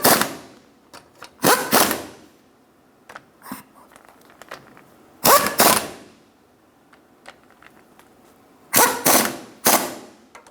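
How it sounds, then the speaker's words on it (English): Short bursts of rapid ratchet clicking snug down ball joint bolts on a 2000-2006 Toyota Tundra front suspension, loud and close, separated by quiet pauses with small metallic taps. "Do the same thing on the other side. Snug the bolts down."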